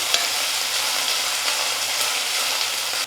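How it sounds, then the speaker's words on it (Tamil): Finely chopped onions sauté in a pan for a tamarind curry, giving a steady, loud, close hiss and crackle of frying throughout with no talking. "வெங்காயம் நல்லா வதங்கட்டும்."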